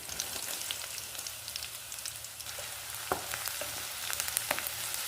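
Chopped garlic and curry leaves frying in gingelly oil for lime pickle, a steady close sizzle with scattered pops and crackles and occasional stirring scrapes, no voices.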